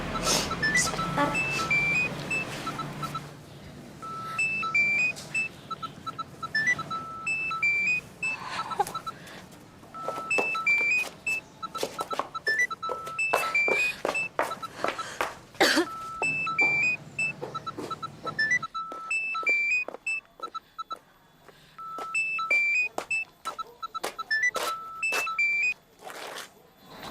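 A mobile phone rings indoors with a repeating electronic beeping melody, bright tonal bursts recurring steadily throughout while muffled room noise and brief knocks sound beneath.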